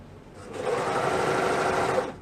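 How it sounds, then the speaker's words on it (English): A serger runs around the hem of a pant leg in one short, steady burst, a close, even motor whir with a fast mechanical hum that starts quickly and stops after about two seconds. "I'm just going to serge around the bottom of both pants, both legs"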